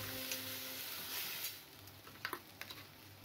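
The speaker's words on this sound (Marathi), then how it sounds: "ते चांगले परतून घ्या, जेणेकरून मसाला एकजीव होणार" Ground masala paste sizzles while being sautéed in a pan for palak paneer, a soft continuous hiss punctuated near the end by a few light clicks of stirring, quiet and close.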